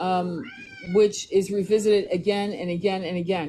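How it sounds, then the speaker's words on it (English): A house cat meows repeatedly and loudly in the foreground, its drawn-out, rising cries cutting across and overlapping someone talking close by. "I'm sorry about my cat"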